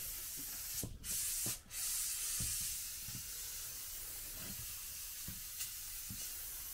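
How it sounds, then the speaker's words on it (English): Low VOC cleaner sprays onto a Mercruiser sterndrive in close bursts of hiss, then soft rubbing and wiping sounds follow, quiet and close with no talk. "let's spray this down and wipe it up."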